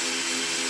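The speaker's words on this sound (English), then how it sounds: "we're just going to drill through nice and slow" A power drill with a metal bit bores slowly through a steel tractor bucket, a loud close continuous whine and grind held steady for under a second.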